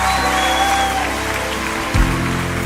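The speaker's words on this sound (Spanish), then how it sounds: "dale otro fuerte aplauso al Señor" Church congregation applauding for the Lord, a broad steady wash of clapping that holds level throughout, with a low rumble swelling near the end; no talk over it.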